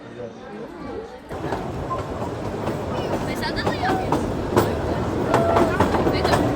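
Amusement park train ride at Efteling, steady rumble and clickety-clack of the cars rolling along the track close by, with people talking over it throughout.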